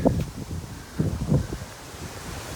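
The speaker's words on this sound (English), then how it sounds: "As you can probably hear, it's still quite windy." Wind gusts through an outdoor garden beside a pallet compost bin, a rushing, rustling roar with a few louder swells, close to the microphone and with no voices.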